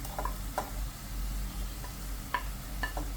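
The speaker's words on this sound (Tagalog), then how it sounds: "igisa lang natin ang chicken breast na hiniwa ko lang ng medyo maliliit" Small chopped pieces of chicken breast, seasoned with salt and pepper, sauté with onion in a hot pan, giving a continuous close sizzle punctuated by a few sharp stirring clicks and scrapes, with no talking.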